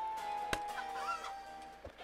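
A chicken clucks in a VR lumberjack wood-chopping game, with a couple of short sharp clucks and squawks close up over a faint electronic background, no talking.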